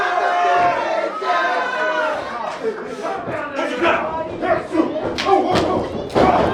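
A wrestler slams down onto the mat during an indie pro wrestling match, a heavy thud ringing out amid crowd noise and commentary voices.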